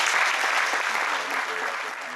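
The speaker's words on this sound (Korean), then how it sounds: "우리 박수로 환영해 주시면 감사하겠습니다" A church congregation claps to welcome a pastor to the pulpit at a prayer meeting. The applause is full and continuous from a roomful of people and holds steady from start to finish.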